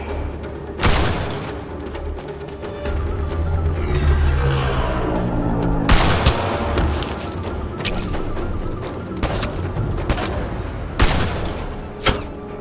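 Gunfire aimed at a sniper in the video game Mass Effect Andromeda, with several loud sharp shots and booming bursts spaced across a dense, rumbling battle bed.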